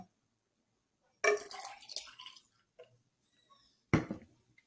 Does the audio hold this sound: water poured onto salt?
yes